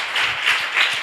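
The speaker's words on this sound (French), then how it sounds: "Quelqu'un n'a qu'à applaudir pour le roi des rois." Church congregation applauding during a French-language worship service, a brief burst of loud, close clapping with slight surges, no talking over it.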